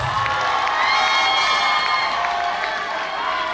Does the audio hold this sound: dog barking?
no